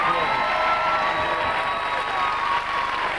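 Studio audience at a quiz show applauding and cheering, a dense steady wash of clapping with crowd noise, loud and continuous throughout.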